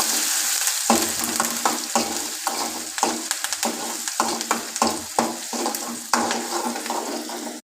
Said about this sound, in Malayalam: ഞാൻ ഉള്ളി മുരിച്ച് പൊരിക്കാൻ പോകുന്നത് കേട്ടോ